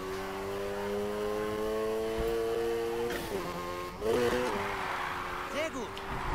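A virtual car in the racing game Need for Speed Heat drifts at full throttle, its engine drone steady and high with a brief squealing flurry midway, all under continuous speech.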